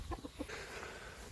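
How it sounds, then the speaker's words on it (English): Three hens and a rooster in a backyard garden coop, giving a few short soft clucks up close before fading into low outdoor background noise. "We got 3 hens and 1 rooster."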